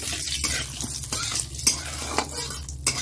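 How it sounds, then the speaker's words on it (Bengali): Dried red chilli, bay leaf and whole coriander seeds frying in hot oil: a close, steady crackling sizzle broken by a few sharp spatters and pops, with no voices. "এখানে শুকনো লঙ্কা আর তেজপাতা দিয়ে দিচ্ছি"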